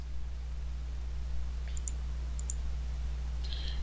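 A few quick, crisp mouse clicks in scheduling software, sharp and close, in pairs over a steady low electrical hum with no talking.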